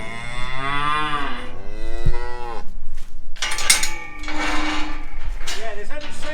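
Loud, close cow moos on a farm as the cows head home while calves stay behind, several long drawn-out calls overlapping with shuffling and clanks in a noisy shed.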